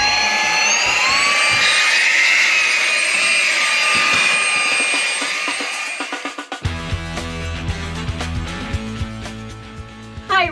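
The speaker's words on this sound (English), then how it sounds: "Mini crevice vacuum," A small handheld mini crevice vacuum used in an RV, a loud, close, high-pitched whine that runs steadily and then shifts into a rougher rattling drone for the last few seconds.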